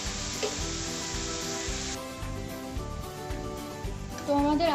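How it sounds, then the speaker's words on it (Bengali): Potatoes and onions sizzle in hot oil in a pan, a steady frying hiss with rhythmic stirring scrapes, close and prominent throughout, brightening into a sharper burst near the end. "এবার আমরা আস্তে আস্তে আলু পেঁয়াজগুলো ছাড়তে থাকি তেলে।"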